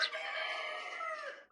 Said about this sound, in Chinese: 随着鸡叫声传来